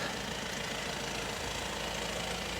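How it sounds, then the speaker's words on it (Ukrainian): A steady, low engine idle hums evenly and quietly throughout, with no talking. "двигун працює м'яко"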